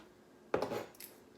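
A knife cuts food during a home cooking session, giving one short crisp slicing scrape with a faint follow-up click in an otherwise quiet room.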